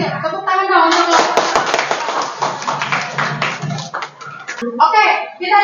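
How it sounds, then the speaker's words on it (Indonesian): A classroom group claps for presenters during a school activity, a close, uneven burst of hand clapping mixed with children's chatter and other voices. "Tepuk tangan dong untuk lo."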